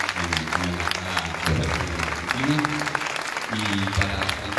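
Audience applause at a Palestinian solidarity and independence day event, steady clapping from a crowd mixed with music and voices throughout.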